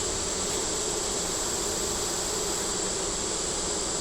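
A dense, steady hum of honeybees buzzing around a beehive holds unbroken and fairly faint throughout, with no voices.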